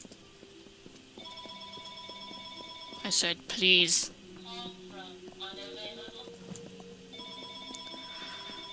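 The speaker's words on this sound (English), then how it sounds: "There goes the phone." Telephone ringing in the fantasy role-playing game Kingdoms of Amalur: Reckoning, repeated bell-like trills over background game music, with someone talking briefly partway through.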